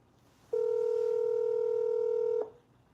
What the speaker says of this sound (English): I'm finna call you back, caller.